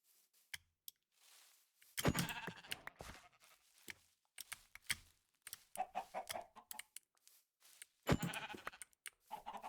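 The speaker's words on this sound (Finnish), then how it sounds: "Siellä on lammas." Sheep bleating in the Minecraft video game, with two clusters of blocky, nasal bleats around short game clicks and quieter gaps.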